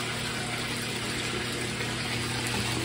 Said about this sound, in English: Right now I'm just filling up the tub, and then we're gonna do a drain just to make sure everything's draining properly.